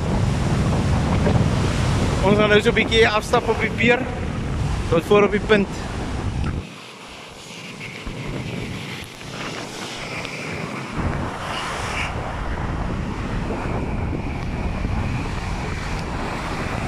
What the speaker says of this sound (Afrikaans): Die wind waai baie erg.